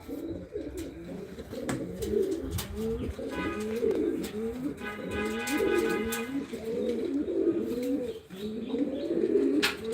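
Several domestic pigeons coo in repeated, rolling low phrases, close and continuous for the whole stretch, with faint chirps and clicks scattered over the top.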